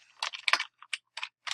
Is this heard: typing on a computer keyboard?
yes